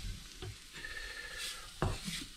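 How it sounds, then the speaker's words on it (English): Mushrooms stirred in a frying pan produce a soft, low sizzle with a couple of spoon scrapes and a sharp knock against the pan, quiet and close. "we're going to stir this until it kind of becomes golden brown"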